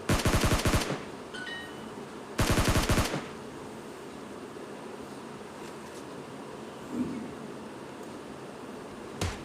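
Kar98 sniper rifle shots in a mobile squad-versus-squad battle royale game, two loud bursts of gunfire near the start with quieter game ambience between and after.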